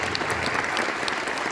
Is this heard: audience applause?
yes